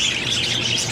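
Grass parakeets chirp in a steady, busy chatter of high tweets, close and fairly loud, with no voices over them.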